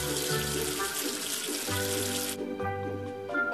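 Tap water runs steadily into a sink, rinsing soap away in a cartoon hand-washing scene. The rush of water is loud for about two seconds, then cuts off, leaving soft musical tones.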